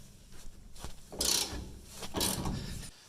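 A ratchet wrench loosens a bolt on a Chevy during a lowering kit install, with two loud bursts of rapid clicking and metallic mechanical rattling up close, no talk.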